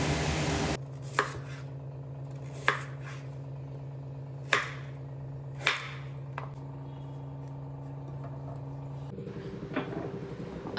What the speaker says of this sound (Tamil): இந்த சேனைக்கிழங்கை இப்போ வந்து க்யூப்ஸாக வெட்டிக்கணும்.